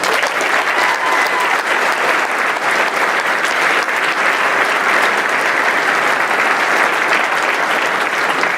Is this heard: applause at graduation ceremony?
yes